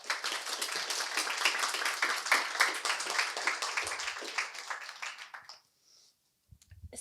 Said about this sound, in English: Can we have a round of applause for our lovely speakers?